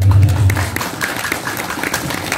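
Applause from the gathering at a PSHT Rayon Pondok Rajeg Maulid Nabi celebration, a brief burst of crowd clapping with a low rumble at the start.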